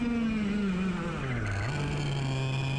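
A go-kart engine drones close by, its pitch dropping under braking as the rear wheels briefly lock up, then settling into a steady lower hum while the kart carries on.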